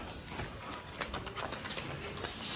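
Domestic pigeons at a loft of colour-matched Giribaz pigeons, faint soft cooing and light bird calls with occasional flutter-like clicks, distant and low over a quiet background.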